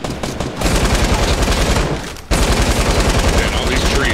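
Sustained automatic fire from a light machine gun in the video game Fortnite, a loud, dense rapid stream of shots with a short pause before a second long burst.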